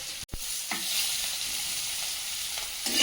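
Oil crackles and sizzles in a hot wok in a home kitchen, a steady close frying hiss with a brief clatter at the start and a louder burst near the end.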